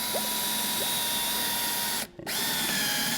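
A cordless power drill runs steadily while boring into wood for a DIY casserole dish holder, a close, loud continuous whine with one brief stop and restart near the end.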